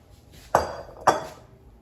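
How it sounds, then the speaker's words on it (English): Two sharp clinks sound about half a second apart as seasoned zucchini and squash are placed into a metal air fryer basket, with quiet room tone between them. "put seasoned zucchini and squash in the air fryer"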